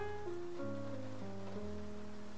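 Steady night rain from the video game Face Noir, a soft even hiss running throughout beneath sustained, slowly shifting music tones.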